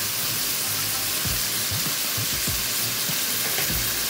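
Chopped onions fry with salt in a pan, giving a loud, steady sizzle and hiss close by, with occasional soft stirring scrapes and no talk over it.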